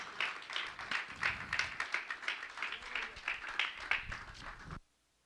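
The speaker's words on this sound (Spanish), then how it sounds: "Y dar unas palmas al Señor." A church congregation claps hands in a quick steady rhythm during a service, moderately distant, with the clapping stopping abruptly at the end.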